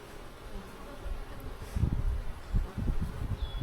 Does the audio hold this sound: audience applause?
no